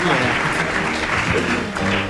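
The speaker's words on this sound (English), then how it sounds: "Round of applause for that brief interlude there." A studio audience at a radio comedy sports quiz applauds steadily throughout, a dense continuous clatter of many hands with some voices mixed in.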